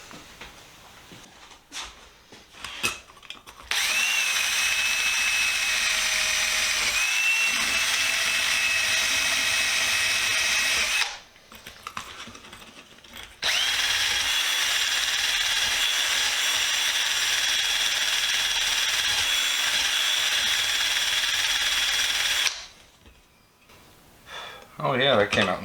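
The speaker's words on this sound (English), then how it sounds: "I'm going to grab my drill with a little wire brush and take care of that" A drill spins a wire brush on a vintage Williams box wrench in two long, steady runs with a pause between, grinding and whirring loudly up close, brief noises before and after.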